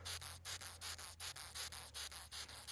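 Leaf-mimicking insect with large pincers on a eucalyptus tree gives a rapid rasping, rubbing buzz in short repeated pulses, close and fairly steady over a low background hum.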